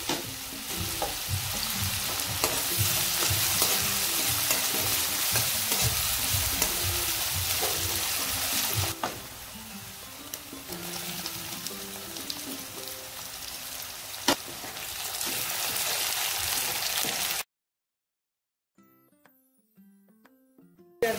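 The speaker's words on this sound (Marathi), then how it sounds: "हिंग टाकला, आणि कांदा टाकून परतून घेणार आहोत" Chopped onion frying with asafoetida in a pan for a village-style chickpea, brinjal and drumstick curry, a dense loud crackling sizzle with stirring that keeps going for a long stretch, then cuts to near silence.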